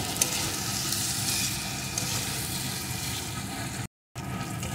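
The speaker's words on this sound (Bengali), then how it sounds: "এখন সব কিছুর সাথে আলুটাকে কিছুক্ষণ কষিয়ে নেব।" Potatoes sauté in a pan with spices and a little sugar for a sweet aloo curry, a steady close sizzle with scraping stirs and one brief dropout, no talking.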